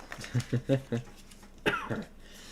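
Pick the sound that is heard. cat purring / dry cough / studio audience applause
dry cough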